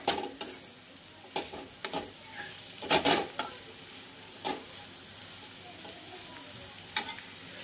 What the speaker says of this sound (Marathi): कारले फ्राय व्हायला मला 5 ते 6 मिनिटे लागले, लवकर फ्राय होतात